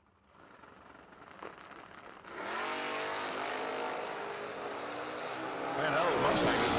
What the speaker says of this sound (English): Now it's going to be Mike Blaska in the Mustang in left side, and Kelly Smith in that 57 Bel Air topless tree roadster.